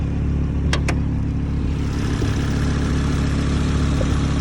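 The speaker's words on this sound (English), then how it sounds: "I'll show you the engine." A 2018 Audi TT RS with an HP Performance intake manifold, a 5-inch intake and a TC800 XT turbo idles steadily nearby, a constant low mechanical hum with a couple of brief high whistles early on.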